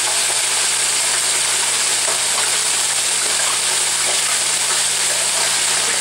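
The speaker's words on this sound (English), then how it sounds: "So now what I'm going to do is I am going to add this slurry" Orange sauce made with Tang sizzling loudly in a hot pan as a cornstarch slurry goes in, a dense, continuous hiss and bubbling close by with no talk.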